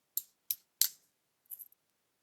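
Small scissors on a Victorinox Pioneer X Swiss Army Knife are opened, making three crisp metallic clicks close to the microphone followed by a softer, lighter clicking rattle, with no talking.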